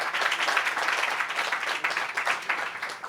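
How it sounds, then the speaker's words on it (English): A crowd at an outdoor plinth unveiling ceremony gives a round of applause, close and fairly loud, with uneven pulses of clapping across a few seconds. "another big round of applause for that thing over there"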